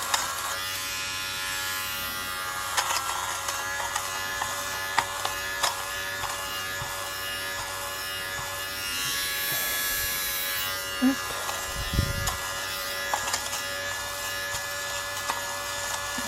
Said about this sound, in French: C'est pas évident de raser les pulls avec ça